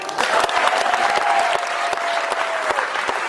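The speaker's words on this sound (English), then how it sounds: "So clap it up for that." Audience applause at an oratorical festival, a dense sustained wash of clapping from a crowd with a few sharper individual claps standing out, steady in loudness throughout.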